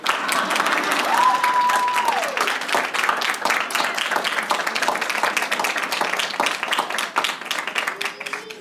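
Graduates at a commencement ceremony applaud hard, sustained dense clapping from a large crowd that stays loud and even, with a brief tonal whine partway through.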